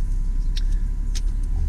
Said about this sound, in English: Vehicle starts straight up. No issues there at all.